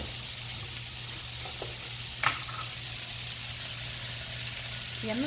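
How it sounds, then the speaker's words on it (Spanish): Pacaya sofrita with egg, tomato and chile sizzles quietly and steadily in a pan, with a brief clink of stirring partway through. "aquí estamos sofriendo la pacaya con huevo, con tomate, con chile"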